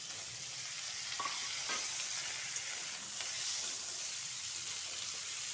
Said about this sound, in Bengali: আলুটা আমি ফের একইভাবে ভেজে নেব।